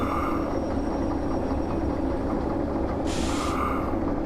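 A locomotive in the Derail Valley train simulator creeps slightly forward. A steady, heavy low engine rumble runs throughout, with a brief brighter hiss partway through.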